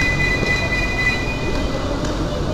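A KRL commuter train rolls into platform 10 of a station, a loud steady rumble with a thin high squeal running over it.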